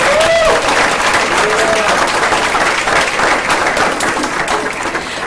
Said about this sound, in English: That alone gives them another round of applause.